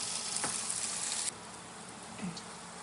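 Sweet red and green peppers frying in a pan give a steady, close sizzle that drops slightly in loudness partway through, with a couple of soft stirring scrapes and no talking.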